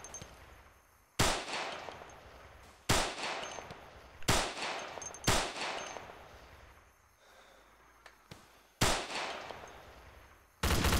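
Heavy .50 caliber machine gun fire in the ArmA II military game, loud short bursts of rapid shots repeating every second or two with quieter gaps between them.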